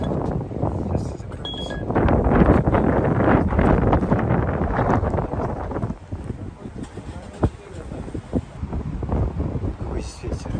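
Strong wind gusts roar against the microphone outdoors on a city delivery route, a loud, continuous buffeting that eases slightly after a few seconds, with brief beeps in the background.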